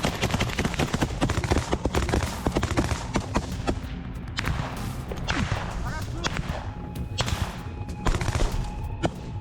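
Gunfire from soldiers fighting in a trench during a raid, dense sharp cracks and bursts of rifle fire with rumbling impacts throughout, mixed with distant shouting voices.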